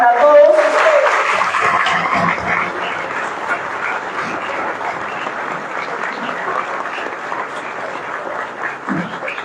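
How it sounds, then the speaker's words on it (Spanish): Audience applause at a book launch for a biography of Evaristo Sourdis: a burst of dense clapping from a sizeable crowd that stays steady for nearly ten seconds, with a brief voice at the very start. "un aplauso muy general para todos ustedes"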